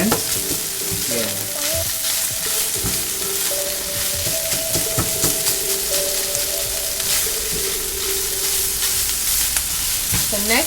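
A beef mixture sizzles and fries steadily in a pan for a cheesy beef mac and cheese, a dense, continuous hiss with occasional stirring scrapes and a faint hum running underneath.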